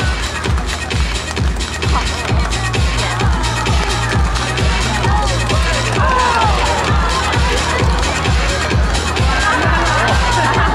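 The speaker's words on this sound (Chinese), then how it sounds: "来，朋友们，来，掌声支持一下。" Crowd at an outdoor elephant show, a steady wash of cheering and clapping with shouts over a pulsing low rhythmic music bed, loud and continuous throughout.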